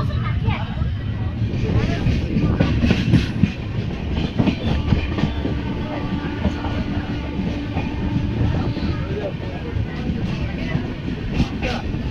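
A passenger train near Anara, heading to Purulia Junction, rumbles along the rails with rhythmic clacking and a steady low roar, voices murmuring faintly in the carriage.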